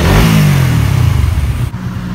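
Suzuki Satria motorcycle engine revving loud and close, a rough throaty roar that climbs then eases off, with a short drop near the end before holding steady.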